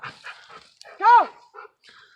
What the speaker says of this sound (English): Here's one of our first Rogue Warrior dogs, Blue.